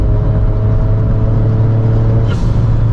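Volkswagen up! TSI with a Stage 2 tune and a Golf GTI-style exhaust accelerating hard, a loud, steady low engine drone with a whirring tone and a short higher burst near the end.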